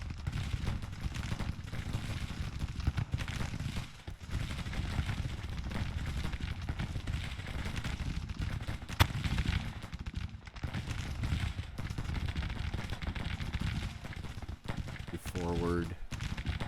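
Battle gunfire and artillery in Grand Tactician, an 1864 Confederate campaign battle at a fort. There is a continuous crackle of shots with heavier booms mixed in, loud and dense throughout, and at one moment a sharp blast stands out.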